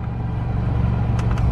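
Steady low engine rumble inside a running Mitsubishi Lancer with the air conditioning on, a constant near drone with a couple of faint brief ticks near the end.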